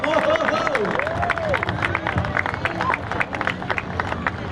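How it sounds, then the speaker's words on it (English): At an air show at Andrews AFB, Maryland, the crowd applauds after a US Navy F-18F Super Hornet demo. Steady clapping and cheering blend with crowd babble, and an announcer's voice sits over it. "Ladies and gentlemen, how about a big round of applause?"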